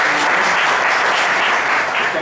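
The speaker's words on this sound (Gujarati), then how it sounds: "પહેલા જોરદાર તાળીઓ પાડો" Dense audience applause fills the whole stretch at a steady, loud level, a continuous wash of many hands clapping together at an event.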